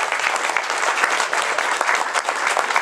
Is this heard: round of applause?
yes